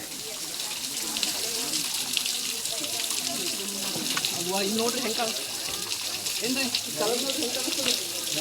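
Constant rushing waterfall spray hisses loudly throughout, with people talking underneath the steady wash, on a trek at Ahobilam.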